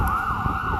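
An ambulance siren wails steadily along Fifth Avenue in New York, its rising and falling tone loud and close over low street traffic rumble, with no one speaking.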